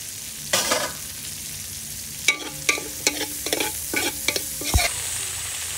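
Garlic and then onion sauté in a hot pan for a home dinner, a soft continuous sizzle broken by sharp clacks and scrapes of a utensil stirring against the pan, close by and with no talking.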